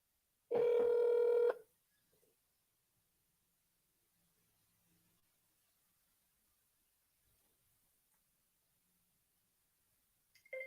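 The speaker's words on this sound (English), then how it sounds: "Is it dialing? It just stopped." A single loud telephone tone rings out for about a second near the start, followed by long near-silence with only faint traces of sound.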